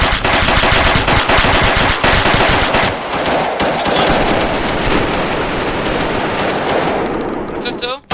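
Bursts of rapid automatic gunfire and shots crackle loudly and almost continuously in an alley during a street confrontation, with shouting voices mixed into the din before it briefly tails off at the end.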